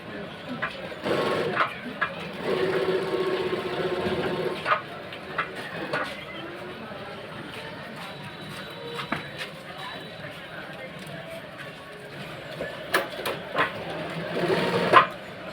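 An industrial sewing machine stitches garment fabric in bursts of fast mechanical whirring, close and fairly loud, with a person talking between and over the runs.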